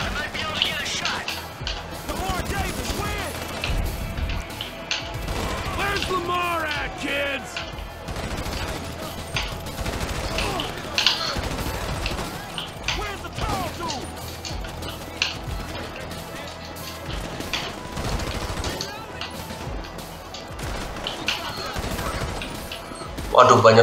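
Gunfire in the GTA 5 video game, including sniper shots: repeated sharp cracks and bursts scattered through a busy, loud mix of action noise, with someone talking excitedly over it.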